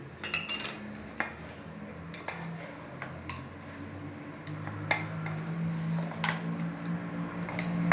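A spoon stirs jaggery aval, flattened rice in jaggery syrup, in a pot, giving soft scrapes and a few sharp metallic clinks against the pot's sides over a low, steady background.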